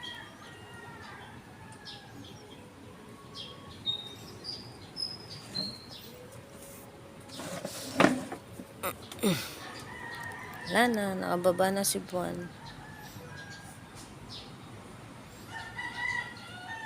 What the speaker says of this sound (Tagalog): Pakinggan yung mga tunog ng ibon